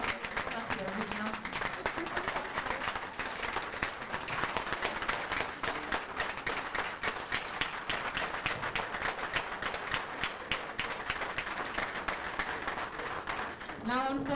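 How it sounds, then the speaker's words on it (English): Sustained audience applause at a meet-and-greet conversation event with the governor, dense steady clapping from a crowd continuing for the whole stretch with voices mixed in. "The applause coming from Mr. Conrad"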